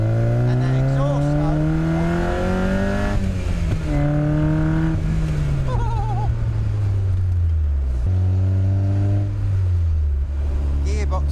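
Mazda MX5 exhaust note under hard acceleration on a test drive, engine pitch climbing steadily through gears with clear drops at each shift, loud and close throughout.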